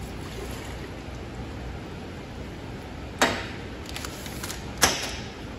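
Sterile autoclaved water rinses cactus plant tissue during a tissue culture procedure, a steady close hiss of flowing water broken by two brief sharp clatters near the end.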